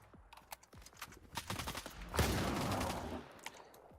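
Shotgun fired from the hip in the video game S.T.A.L.K.E.R. 2: a heavy blast at close range amid quick clicks and footsteps, with a brief burst of noise that decays within about a second.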